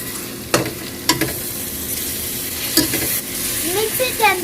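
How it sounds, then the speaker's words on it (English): Onions and ginger garlic paste sauté in a pan for chicken biryani, with a soft steady sizzle and a few sharp scrapes of a spoon as the mix is stirred, close and alone. "Mix it until the ginger garlic paste smell has gone."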